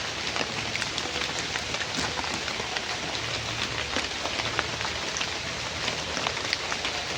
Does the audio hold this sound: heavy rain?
yes